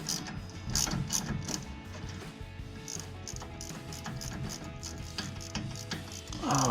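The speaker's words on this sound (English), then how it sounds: "it's a 19 millimeter on one side, and the hex key through the hole in the other to tighten it down" Rapid clicking ratchet strokes tightening a sway bar link bolt on a Jeep Gladiator JT with a 19 mm socket, close and crisp, in bursts with brief pauses between.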